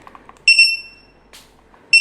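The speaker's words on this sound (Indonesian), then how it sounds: "Ini penting nih si timer nih." A workout timer gives loud, sharp electronic beeps during a back and abs session, one long tone followed by a second beginning after a pause, with faint background clicks.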